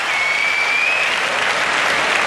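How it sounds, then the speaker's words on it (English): At the 2006 World Karate Championships, a large arena crowd roars and applauds for the Japanese women's kata team, a loud, sustained wall of clapping and cheering with a faint whistle-like tone drifting through it. "The Japanese and the crowd, as we can hear, absolutely getting behind them."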